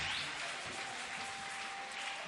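A church congregation at a sermon claps together, a dense, steady wash of applause at moderate distance, continuous from start to end with no breaks.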